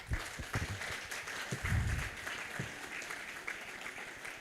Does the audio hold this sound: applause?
yes